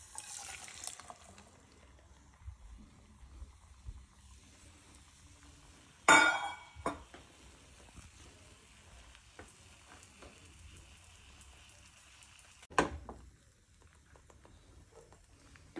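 Onion omelette batter fries in a hot pan, a faint, low crackle under quiet kitchen sounds, with two sharp clatters of a utensil or pan partway through and no speech.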